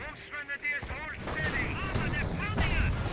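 A 20mm gun fires in Company of Heroes, sharp bursts of shots over busy battle noise, with a voice talking over the action.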